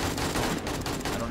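Gunfire from a pistol in the survival game 7 Days to Die, a quick burst of loud shots packed closely together in a short stretch.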